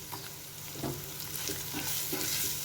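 Spices stirred through a pan for mutton boti fry, with chilli powder, salt, garam masala and coriander powder scraped around amid a steady close sizzle, with repeated scraping strokes and no talking.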